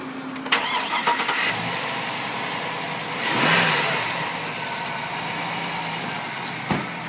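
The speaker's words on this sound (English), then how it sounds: "Let me show you guys the engine. Beautiful, big engine, very strong." A big engine in a 2006 GMC Yukon Denali SUV runs steadily up close, with a swell of revving partway through and a couple of sharp clicks, no talk over it.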